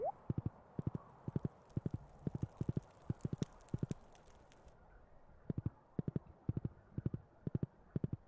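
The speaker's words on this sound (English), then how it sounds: "I'll bring my horse." A horse's hooves clip-clop in the video game Stardew Valley, crisp paired clicks in a brisk walking rhythm, close and clear, pausing briefly midway before resuming.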